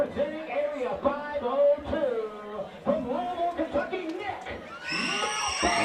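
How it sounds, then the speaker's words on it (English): Crowd ovation for MMA fighter Nick Maupin at a Hardrock MMA event, cheering and whoops swelling behind commentators talking over it, rising into a louder burst of applause near the end. "What about that ovation for Nick Maupin?"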